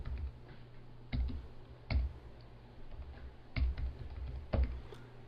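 Code is typed on a computer keyboard in irregular bursts of clicky keystrokes with sharper taps between them, close and fairly quiet, with no voices.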